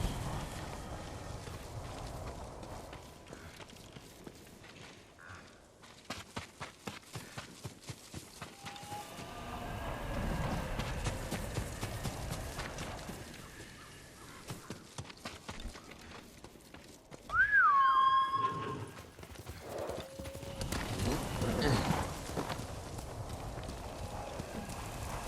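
Horse hooves clip-clop in the Ghost of Tsushima video game, a steady galloping rhythm that rises and fades among game ambience, with a brief whinny partway through.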